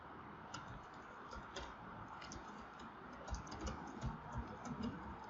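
Steady typing on a computer keyboard while entering text into MS Word, a continuous run of close, fairly quiet key clicks with occasional louder strokes and no talking.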